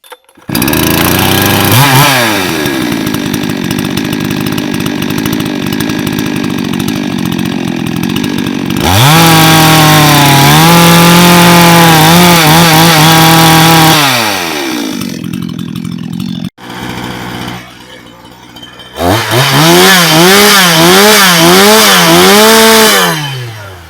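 A gasoline chainsaw rated at 111.9 dB starts with a pull, idles, then revs hard several times, loud and close, with brief pauses between bursts.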